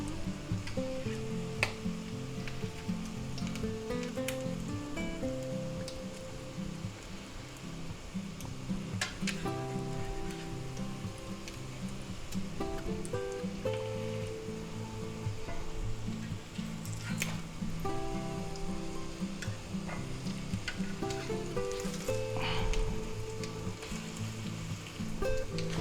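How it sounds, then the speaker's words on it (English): Tuna patties fry in a pan while being flipped, with a soft, continuous sizzle and occasional faint scrapes running evenly throughout at low volume. "Let's just go ahead and flip them."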